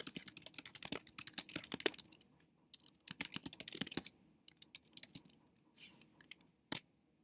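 Quiet, quick keystrokes on a computer keyboard, irregular bursts of clicks with short pauses, close and soft.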